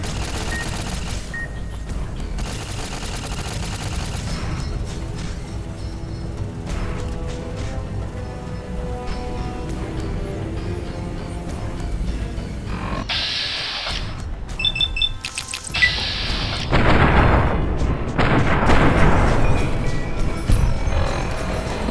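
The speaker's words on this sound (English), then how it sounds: "Turret go boom boom." Turret gunfire and explosions in Fallout: New Vegas, with dense rapid bursts of shots and blasts that build toward a loud, crackling barrage near the end.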